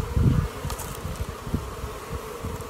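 A frame of honeybees shaken a second time over a nucleus hive, giving a close, continuous buzz with a burst of motion at the start and smaller rustles after, no talking.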